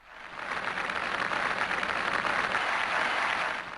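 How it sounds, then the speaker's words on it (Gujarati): Sustained, dense applause from a competition-show audience cheering a young singer, rising quickly and holding steady at a moderate distance with no talk over it. "એકવાર જોરદાર તાળીઓ માનસી માટે."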